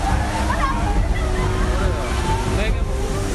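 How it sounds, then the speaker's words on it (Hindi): Turbulent floodwater surges and sloshes continuously through city streets in Jaipur with a loud, churning roar, steady throughout with no pauses. "ये उफनती लहरों का रौद्र रूप है।"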